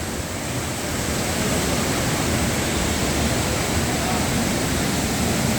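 The Kapila Theertham waterfall at Tirumala roars in a constant, dense wash of falling water during heavy rain, with the flood rising into the pavilions. The roar is loud and unbroken throughout.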